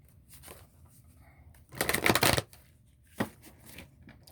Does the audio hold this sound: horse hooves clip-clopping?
no